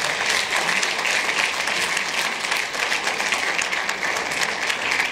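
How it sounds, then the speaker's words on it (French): Sustained, full applause from an audience at a film festival closing and awards ceremony as a prize for best original score is handed out, a loud, steady clatter of many hands over five seconds. "Vous pouvez encore applaudir."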